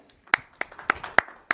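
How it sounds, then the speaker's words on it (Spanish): A handful of sharp hand claps from an audience at a religious talk, spaced irregularly over a second and a half, close and fairly loud with quiet gaps between them. "Podemos dar un aplauso por ese concepto, ¿eh?"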